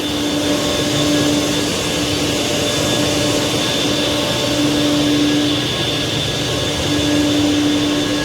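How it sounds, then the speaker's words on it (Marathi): A water pump runs in the pump house of the Nivali Bavnadi dam, giving a constant loud mechanical drone with a steady whine throughout, unbroken and with no voices. "हा तीन नंबर पंप चालू आहे आता बघा"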